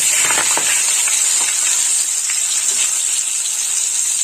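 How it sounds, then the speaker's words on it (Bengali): Three bay leaves dropped into hot oil for tempering a pointed gourd dish crackle and sizzle loudly up close, a bright steady hiss with a few sharp pops early on. "গরম হয়ে গেছে তো তেলের মধ্যে আমি ফোড়ন দেবো ফোড়নে নিয়েছি তিনটে তেজপাতা"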